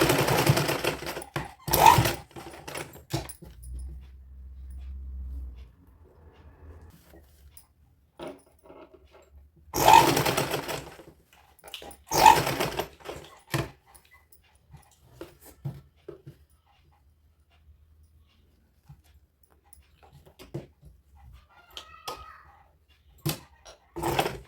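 A sewing machine stitches a twice-folded seam on a baby's dhoti kurta in short separate bursts, quiet stretches between them, faint handling noises around.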